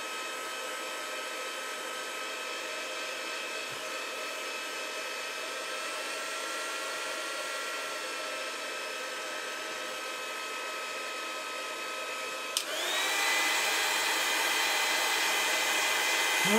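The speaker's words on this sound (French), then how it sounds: "j'ai le heat gun qui fait du bruit" A heat gun blows steadily for hot embossing on paper, a loud continuous whooshing whine that holds for several seconds, then shifts abruptly to a louder, higher pitch near the end, with no talking.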